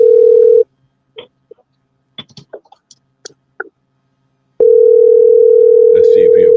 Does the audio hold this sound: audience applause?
no